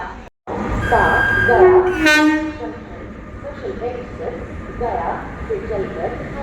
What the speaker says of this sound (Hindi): WAP 5 के साथ आ रही है अपनी गया अमृत भारत, अमृत लेवल के साथ।